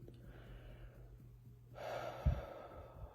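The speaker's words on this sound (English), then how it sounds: "Breathing in." A single audible in-breath taken during an emotional freedom tapping mindfulness exercise, a soft airy inhale rising near the end, close and quiet with no talking over it.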